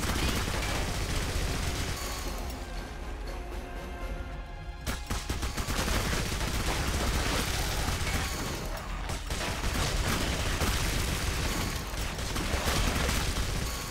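Rapid gunfire from the PC version of the console-ported shooter Clive Barker's Jericho: dense, continuous bursts of shots and machine-gun fire with heavy battle noise, loud and close throughout, with a brief lull near the middle.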